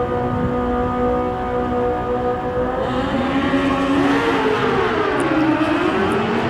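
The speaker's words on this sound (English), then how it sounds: "That is a Yamaha FZ09 down there, 4-stroke triple," Yamaha FZ09 four-stroke inline three-cylinder motorcycle at a drag racing final, its loud engine note rising and sweeping in pitch as it accelerates down the strip over a steady roar of track noise.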